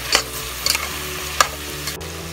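Pork and tomato sautéing in a pan: a soft continuous sizzle broken by a few sharp scrapes of a utensil, with no talking.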